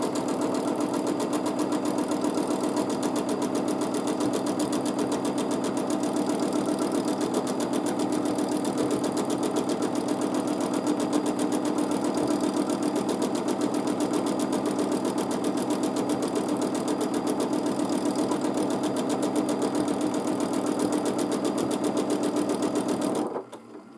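A sewing machine stitches continuously during free motion quilting, a fast, even mechanical chatter with a steady hum that runs for the whole stretch before stopping abruptly at the very end.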